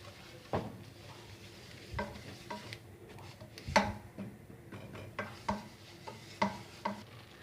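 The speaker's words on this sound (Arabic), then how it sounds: "هنقلب بقى لما نسوي الدقيق شويه" A spoon stirs flour frying in butter for a béchamel, giving soft scraping strokes and faint sizzling, quiet and close, with no talking.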